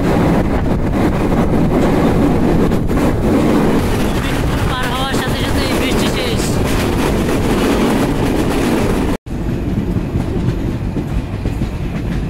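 The Kapotaksha Express intercity train runs on the Khulna–Rajshahi line, its loud, continuous rolling rumble and clattering wheels heard from on board, with a brief cutout near the end before the roar resumes.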